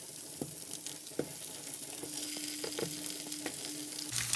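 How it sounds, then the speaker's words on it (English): Tofu blocks sizzle in hot oil in a pan, a steady close hiss with occasional clicks and light taps as pieces are laid down, without any talking. "you just want to make sure you hear a sizzle when you put it down"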